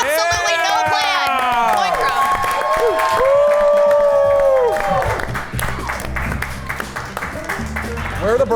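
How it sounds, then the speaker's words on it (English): A group of friends cheers and whoops loudly with overlapping shouts, then breaks into a burst of clapping and crowd noise that fades toward the end. "Let's get some applause."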